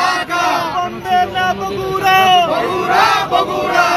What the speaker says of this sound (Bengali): এখানে কিন্তু তারা সেই দাবিতেই কিন্তু এখানে স্লোগান দিচ্ছেন।